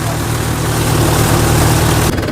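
A farm tractor's engine runs steadily and loudly nearby, a continuous low droning rumble that holds constant before a slight change near the end.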